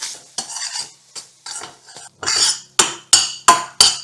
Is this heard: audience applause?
no